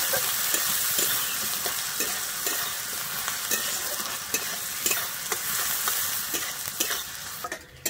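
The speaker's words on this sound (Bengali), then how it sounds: "আমি পেঁয়াজটা দিয়ে কিন্তু লাল করে ভেজে নেব।" Chopped onions fry in hot oil with bay leaves in a pan. The oil sizzles loudly and steadily from up close, with rhythmic scraping stir strokes repeating throughout.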